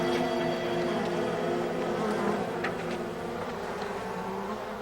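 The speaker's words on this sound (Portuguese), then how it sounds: "Abelhas africanas são uma espécie irritadiça das abelhas domésticas." Africanized honey bees buzzing continuously in the hot Sonoran Desert, a dense steady drone of many insects that stays loud and close throughout, with no talking.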